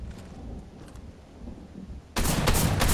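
A Ranger shotgun firing in Fortnite, a loud close blast that erupts suddenly after a couple of seconds of quieter game ambience and stays dense and crackling to the end.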